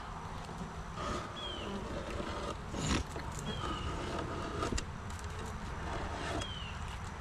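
Honey bees buzz inside a hive box during an October inspection of a weakened colony. A low, steady drone runs throughout at moderate distance, broken by a few brief knocks and rustles from handling.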